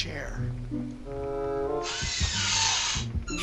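A chainsaw revs in Dead by Daylight, a harsh buzzing roar that swells midway through, mixed with voices talking over game audio.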